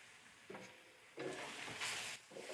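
Charred Brussels sprouts with bacon and maple get tossed in a pan off the heat, giving a few soft scraping, rustling stirs with a light sizzle, close and fairly quiet, with no talking.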